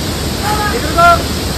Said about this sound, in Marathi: पाऊस जास्त आहे इथं.